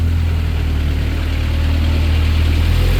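Engine of a 2014 Moffett M55 truck-mounted piggyback forklift while driving, a steady low rumbling drone held close and even throughout with no talk.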